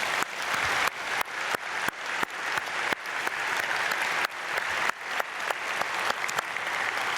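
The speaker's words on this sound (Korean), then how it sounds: "우리 박수로 축복하겠습니다" Rhythmic congregational clapping at an early-morning church prayer service, a full room applauding in strong, regular unison beats, loud and sustained, with no voices over it.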